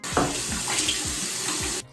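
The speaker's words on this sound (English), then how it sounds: "I'm gonna go ahead and rinse off the mask with some warm water" Warm tap water runs steadily into a sink while a face mask is rinsed off, with light splashing from hands moving under the stream, close by; the flow stops just before the end.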